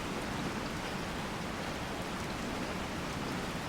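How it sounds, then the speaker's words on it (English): Steady rain from the Resident Evil 4 video game, a dense, even hiss of falling drops with no breaks, moderately quiet and unaccompanied by voices. "It's raining in the game."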